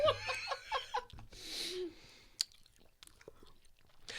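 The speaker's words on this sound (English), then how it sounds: "You should chew closer to the mic." Someone chews food close to the mic, with a few soft, wet bites and mouth sounds after brief laughter, faint and intimate.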